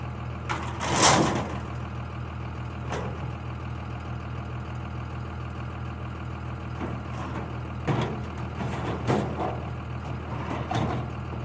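A farm truck's engine runs steadily at idle and close by, with faint intermittent beeps, a few short hissing bursts, and clunks on top.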